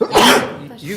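A single short sneeze bursts out up close, followed by a brief spoken word.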